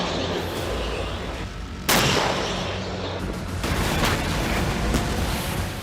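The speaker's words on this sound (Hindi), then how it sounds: "जिसमें पैदल सेना, टैंक और रॉकेट के धमाकों के फुटेज भी शामिल हैं" Chinese military rocket explosions and gunfire, a dense continuous roar of firing with a sharp loud blast partway through and rumbling bursts continuing after, heavy and distant-sounding.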